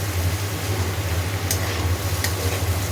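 Poppy seed paste being stirred in a frying pan, a steady close sizzle with scraping of a spatula under it and a constant low hum, no talking.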